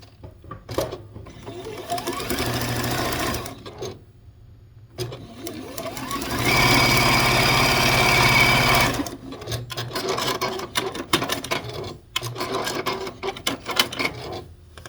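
A home sewing machine stitches a log cabin quilt block in several steady, whirring runs of a few seconds each, close up, with brief pauses and light handling sounds between them.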